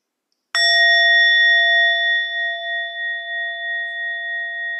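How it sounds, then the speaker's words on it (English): A meditation bell is struck once, giving a sharp clear onset followed by a long pure ringing tone that slowly wavers and fades while still sustaining, with nothing else around it. "you just follow the sound of the bell until she completes"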